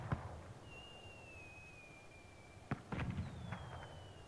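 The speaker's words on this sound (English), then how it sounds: "You can see the fireworks going off in the distance there" Fireworks bursting in the distance in Dragon Age: Inquisition, a faint whistling rise followed by a couple of sharp pops and crackles, with no talk.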